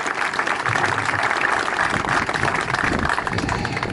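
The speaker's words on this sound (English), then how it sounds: "So a serious round of applause to the development committee for sticking at this" Applause from an audience at a sports clubhouse and pitches opening, a dense, steady wash of clapping that holds at a constant loud level for the whole stretch.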